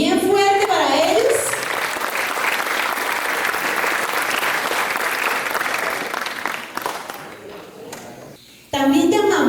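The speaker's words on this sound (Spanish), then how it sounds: "Un aplauso bien fuerte para ellos." An audience applauds a school music ensemble at a ceremony in Colombia, a dense sustained clapping that fades toward the end, with a voice speaking briefly before and after.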